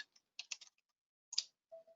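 A few quick bursts of keyboard key clicks, a cluster of taps then a brief pause and a couple more, fairly quiet with no talking.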